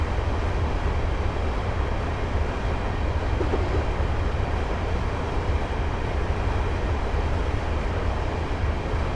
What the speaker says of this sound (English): At this point I'm now going to idle the power and allow the train to coast